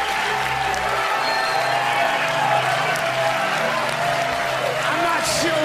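An audience at the end of a stand-up comedy show applauds and cheers in a steady wash of clapping, with some whoops and a voice talking over it.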